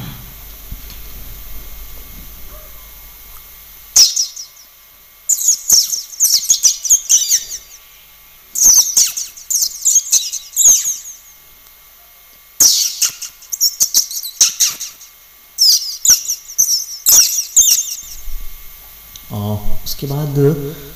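A man whistles an imitation of a koel-like bird's call, giving a run of bright, repeated chirping phrases in bursts separated by short pauses, loud and close, with a little low vocal sound near the end.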